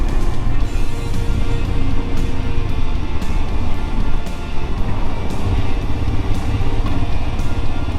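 A 2022 Royal Enfield Himalayan with a carburetor idles around 2,000 rpm after a cold start with the choke out, a loud, steady, close engine rumble with no talking.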